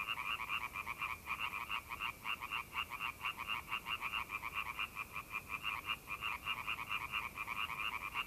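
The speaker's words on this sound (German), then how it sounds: "Nicht immer muss der Laubfrosch nach Beute springen." European tree frog croaking in Westensee Nature Park, a steady run of rapid, pulsing rattling calls that carry on without pause, loud and close with no voices.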